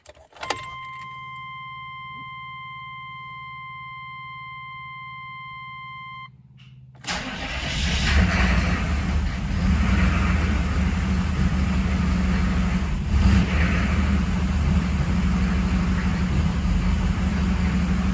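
A 6.5 diesel engine with air in the fuel line cranks after a dashboard chime and key jingle, then catches and runs loud and uneven with a rough, labouring idle.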